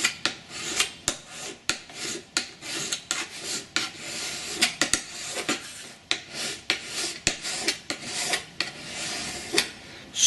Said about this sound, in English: Using a file, such as the one I have here,